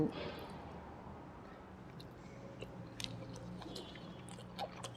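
Someone quietly chews catfish with sticky rice at close range, with soft, moist bites and a few small crunches over a hushed room.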